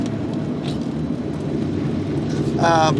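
Engine of a 1966 Ford Mustang restomod running steadily while the driver shifts down into second gear; a continuous low rumble fills the cabin, rising slightly at the end with a brief tonal whine.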